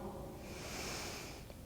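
A single slow, deep breath during yoga practice, soft and airy and close by, drawn out steadily with a faint hiss and no talking.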